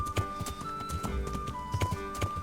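Horse hooves galloping in Kingdom Come: Deliverance, the rider on horseback without tack: a steady run of rhythmic clip-clop beats, fairly close, over a busy game soundscape.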